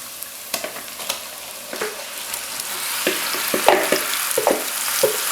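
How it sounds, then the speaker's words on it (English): Marinated lamb with golden-brown onions and yogurt frying in a pan, a steady sizzle with scattered stirring clatters and scrapes, close and moderately loud, no talking. "So you just need to saute this lamb for a good few minutes"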